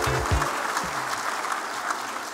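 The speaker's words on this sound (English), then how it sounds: "So give Rubicon a big round of applause." Audience applause at an export award ceremony, a dense steady clatter of many hands clapping together, with a brief low voice murmur near the start.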